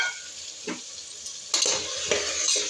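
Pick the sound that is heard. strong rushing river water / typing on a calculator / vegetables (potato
vegetables (potato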